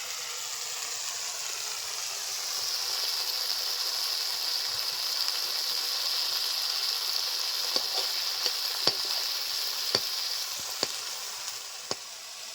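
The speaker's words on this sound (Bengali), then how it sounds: "এখানে দুশো গ্রাম চিংড়ি মাছ আগে থেকে ভালো করে ধুয়ে রাখা আছে দিয়ে দিচ্ছি কড়াইতে" Two hundred grams of washed prawns sizzle steadily in hot oil in a wok with taro stolons, a loud, even hiss with a few sharp ticks of stirring near the end.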